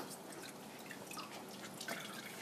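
Water dripping and trickling from a wet hand-felted wool project just rinsed in cold clear water, with steady close patters and small splashes.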